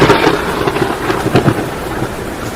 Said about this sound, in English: Yeah, it's storming outside too.